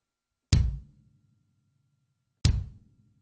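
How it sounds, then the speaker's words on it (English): Two deep, punchy bass drum hits struck with a foot pedal, played alone about two seconds apart, each thump decaying quickly into silence. "So that's the bass drum."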